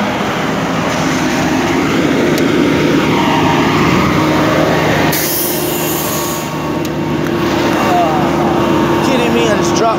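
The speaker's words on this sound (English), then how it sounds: "big truck" A big truck drives past on a road, a loud, close engine roar and rumble of tires that swells and stays heavy for several seconds, with someone talking over it.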